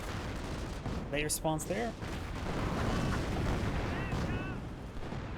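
Artillery fire from a Company of Heroes 1 match rumbles as dense, continuous booming and impacts throughout, with brief bursts of higher-pitched effects, while a commentator talks over it.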